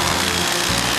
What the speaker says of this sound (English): I don't think Anna's quite got Andy's touch with the power tools